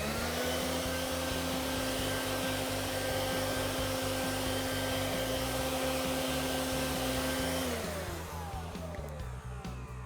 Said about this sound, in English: switch the hose from the vacuum section to the blowing side of the motor.